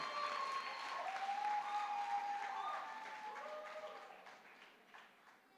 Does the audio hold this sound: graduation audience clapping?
yes